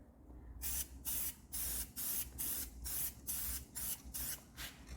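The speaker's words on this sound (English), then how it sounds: "We always want to keep our spray going up to where we're spraying in an upward motion." Spray paint hissing from an aerosol can over tire marks in a rapid series of short, loud, close bursts with brief gaps, keeping a steady rhythm over a low background hum.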